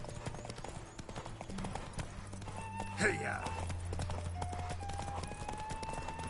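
A galloping horse's hooves keep up a fast, even clip-clop in The Witcher video game, while a man gives one short shout midway over the pounding rhythm.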